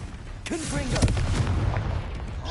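Hogwarts Legacy combat, with a Confringo blasting spell going off: a sharp blast near the middle sits among rumbling impacts and other spell effects, moderately loud, with a voice heard briefly.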